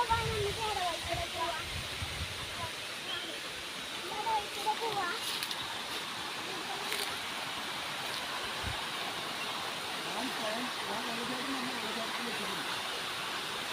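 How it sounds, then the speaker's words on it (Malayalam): A small forest waterfall near Gudalur rushes in a steady, broadband roar that stays constant throughout, with a person briefly talking near the start. "ഇതാണ് ഇട്ട വെള്ളച്ചാട്ടം"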